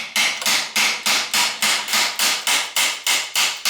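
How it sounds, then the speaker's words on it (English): Sharp metallic strikes land on an adjustable hook spanner to break loose a vintage Italian bicycle bottom bracket, about a dozen loud, close, evenly spaced blows with no talk. "I'm going to use what's called an adjustable hook spanner, and so kind of hook into one of these little notches here and see if I can get this to break loose"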